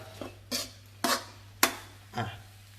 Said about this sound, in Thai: นี่ครับผัดไปเลยครับ